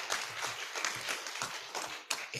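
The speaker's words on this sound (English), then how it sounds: "Please give applause for the speakers and for the participants." Audience applause for the speakers and participants at an occupational therapy education conference, a dense, steady clapping from a crowd that runs throughout at moderate loudness.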